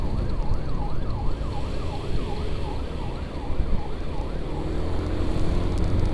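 A wailing ambulance siren cycling rapidly up and down, steady and fairly close, over the loud rumble of a moving vehicle.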